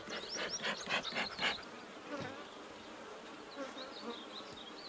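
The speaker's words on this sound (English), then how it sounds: "Let's see if we can smoke these bees down" Honey bees buzz close by as a hive is smoked, with a few loud pulsing bursts at first, then a quieter, continuous hum of many bees.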